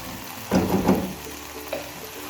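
Omelette mixture with tomato and red chilli powder being stirred as it fries in a pan, bursts of sizzling and scraping in the first second, then quieter hissing with one brief flare near the end.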